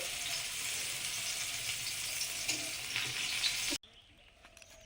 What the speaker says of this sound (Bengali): সবগুলো নুন হলুদ মাখিয়ে নিয়েছি একটাই ভাজা করে দিচ্ছি